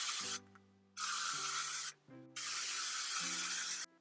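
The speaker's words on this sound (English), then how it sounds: "Come quick, don't forget about the hairspray" Several long hissing bursts of hairspray from an aerosol can, each lasting about half a second to a second and a half, separated by short pauses and heard close up with no talking.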